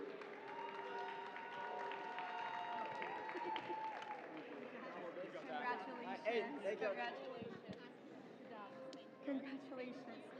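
An audience at a robotics competition applauds and cheers for a team, quiet and distant clapping mixed with crowd chatter and occasional shouts, with talking throughout.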